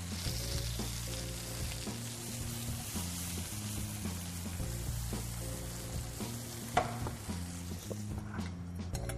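Mushrooms and spinach frying in a pan during preparation of a reindeer fillet dish, a steady close sizzle that runs throughout, with a faint low tonal hum underneath and one brief clink.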